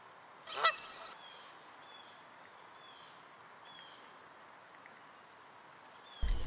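Barnacle and pink-footed geese honk faintly in the distance, a few scattered calls carrying over a quiet, steady outdoor background with a soft thump near the end.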